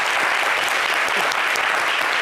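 A television studio audience applauds a guest on a French-language talk show, with dense, even clapping held at a steady level from start to end.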